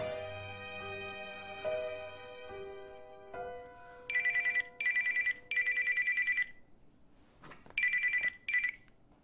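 Telephone ringing in a Korean drama scene, a series of loud electronic ring bursts with short gaps between them, following a soft melodic tone at the start.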